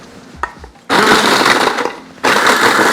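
Bread and a couple of dried chilies ground in a food processor for palamut fish köfte: a few small clicks and knocks, then two loud bursts of whirring, crunching blade noise separated by a brief lull.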